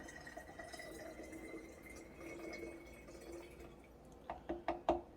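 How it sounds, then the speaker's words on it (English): Water poured into the reservoir of a Mr. Coffee espresso machine, a faint low trickle that ends in a few louder splashing drips near the close. "I'm putting a little bit more for the steam, right? So I'm pouring it in."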